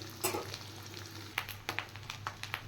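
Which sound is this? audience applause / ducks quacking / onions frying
onions frying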